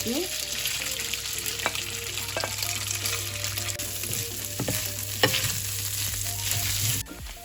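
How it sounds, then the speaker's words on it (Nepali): Boneless goat meat, already cooked and cut into shreds, sizzles steadily in a frying pan with occasional stirring clinks, close and continuous with no talking. "अब यसलाई केस्रा पारेपछि म यसलाई एकछिन फ्राई गर्छु"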